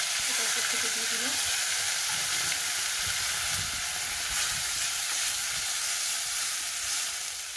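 Tomato-ginger paste hits hot oil with a bay leaf, giving a loud, continuous close-up sizzle and hiss with faint stirring clatter underneath.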